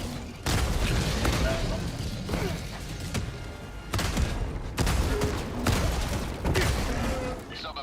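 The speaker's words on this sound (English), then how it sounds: "We're gonna die to the fucking mortar." Mortar fire and explosions in the co-op shooter Helldivers 2, with several loud booming impacts and bursts of gunfire arriving in clusters, and players talking under the chaos.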